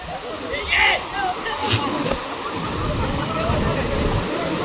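Vyaghreshwar waterfall at Devgad, Manche, pours with a continuous broadband rush of falling water. It is close and fairly loud, with brief voices and other sounds breaking through early on.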